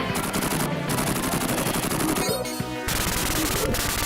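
M16 rifle fire in a Die Hard video game: rapid, loud bursts of automatic gunfire chatter almost continuously, with a brief break of other game tones before the shooting resumes.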